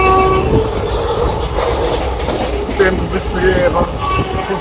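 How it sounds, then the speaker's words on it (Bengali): Express passenger train running at speed, a steady loud broadband rumble of wheels and carriage with faint clicking from the rails, heard from inside the coach. "ট্রেন খুব স্পিডে এখন ছুটছে।"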